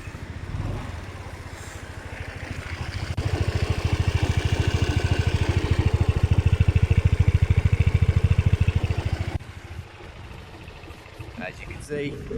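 A Peugeot Kisbee R 50cc scooter engine starts and runs with a loud, rapid two-stroke putter for several seconds, then drops back to a quieter idle, with a person speaking around it.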